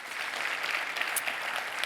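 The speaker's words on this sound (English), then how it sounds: "Let's give ourselves and the movement a round of applause." A brief, steady round of applause from a conference audience at the Pray Vote Stand Summit 2022, a dense even wash of clapping heard alone.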